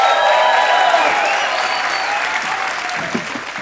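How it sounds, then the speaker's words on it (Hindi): Studio audience claps for Sunny and Bobby Deol on The Kapil Sharma Show, a full, bright burst of applause that stays strong and gradually tapers over a few seconds. "एक बार सनी बाजी और बॉबी बाजी के लिए जोरदार तालियां हो जाए।"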